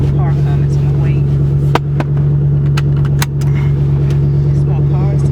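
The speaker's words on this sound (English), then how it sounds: "some car coming, so I'm gonna wait" A car passes on a road near a manual-transmission car waiting at a stop, a steady low engine hum filling the clip with brief clicks and faint talk.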